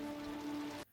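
Rain in the 2011 film The Help, a steady broadband patter with a sustained tonal hum beneath, constant and fairly loud before cutting off abruptly near the end.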